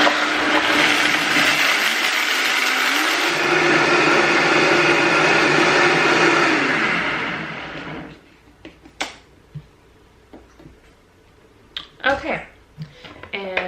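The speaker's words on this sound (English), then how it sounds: "And then I just put my trusty Vitamix." A Vitamix blender whirs loudly while blending a salted tofu batter, running steadily for about eight seconds before shutting off, followed by scattered clunks and handling sounds nearby.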